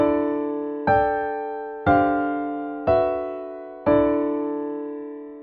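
A chord progression voiced in perfect fourths, played as five separate struck chords about one second apart, each decaying cleanly, with no other sound.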